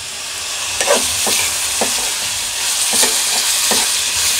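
Biryani rice with biryani masala is stirred in a pot, a close, steady sizzle broken by repeated scraping strokes of a spoon at a loose, even rhythm.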